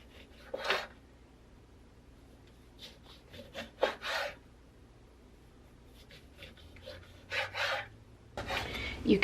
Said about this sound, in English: So I'm going to slice up some oranges.